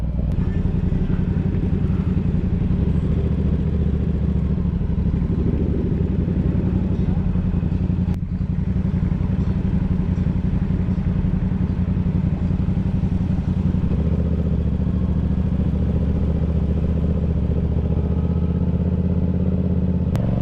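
A Yamaha R7 sport motorcycle cruising in second gear on a road trip, with a steady, close engine drone and heavy wind rush that continue without a break for the whole stretch.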